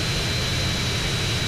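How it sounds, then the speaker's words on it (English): Steady, loud jet aircraft engine roar in GTA San Andreas Remastered, a continuous broadband rush with a thin high whine and no talking. "Turning on. Gas engine on. Bracers on. Jet fuel ignited."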